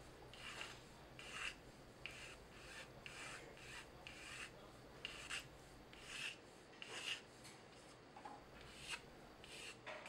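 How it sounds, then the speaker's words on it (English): A file rasps along the rough edges of a sunglasses lens in a steady run of about fifteen even back-and-forth strokes, close and quiet, with no voices. "with a file, we're just going to remove any kind of rough edges"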